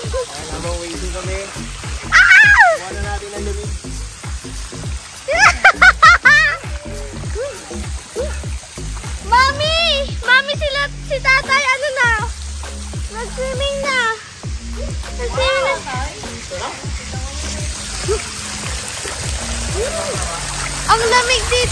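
Water splashes and rushes in an outdoor wave pool, with children's voices and excited chatter rising over it in bursts.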